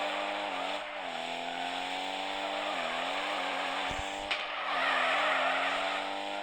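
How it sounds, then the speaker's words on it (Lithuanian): In the Drift Max Pro video game, a car drifts with a steady, loud tire squeal layered over a droning, wavering engine note that rises and dips as it slides. "Visai gerai driftinu kol kas."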